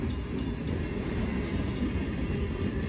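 A CSX M327 freight train rolls past in the rain, a dense, steady low rumble of wheels and cars close by, with continuous wet hiss over the top.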